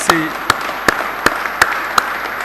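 A church congregation at a service welcoming a new pastor and his wife claps in a steady rhythm, loud and close, with sharp evenly spaced beats and a brief vocal sound near the start.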